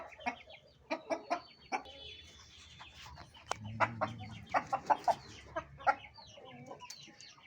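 Aseel chickens cluck in a series of short, close, uneven calls, with a few scratchy rustles and brief squawks mixed in and no talking.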